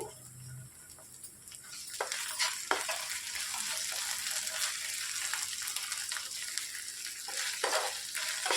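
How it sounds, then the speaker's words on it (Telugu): Ginger garlic paste and onions fry in oil for a capsicum masala gravy, giving a continuous, moderately quiet sizzle with occasional sharp spoon scrapes against the pan. "అల్లం వెల్లుల్లి పేస్ట్ పచ్చి వాసన పోయే వరకు వేయించుకోవాలి"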